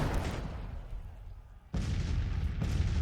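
Artillery fire from Civil War cannons in the strategy game Grand Tactician, a continuous rumbling barrage of booms that drops off briefly then surges back loud, with overlapping gunfire reports.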